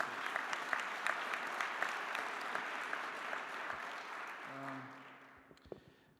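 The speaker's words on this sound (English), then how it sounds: "please give them one more round of applause for their efforts" Audience applause at a governors' summer meeting opening ceremony, dense sustained clapping from a large crowd that gradually thins and fades out near the end.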